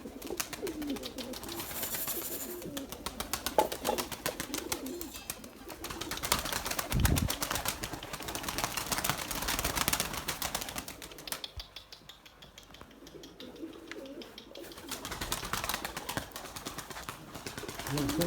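Pigeons circle and flutter around a loft outdoors, wingbeats and soft cooing blending into a steady, moderately loud ambience that dips briefly near the middle, with occasional voices nearby.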